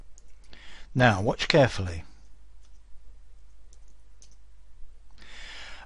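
A few sparse, soft clicks sound from a computer keyboard as a slide title is typed in PowerPoint 2013, with a brief burst of typing at the end. Someone speaks briefly just before the keys start.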